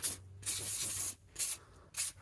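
CarLife CF451 rust remover is sprayed onto a rusty bolt on a Volkswagen e-Golf VII in four close hissing bursts, one long followed by three short ones, with no speech.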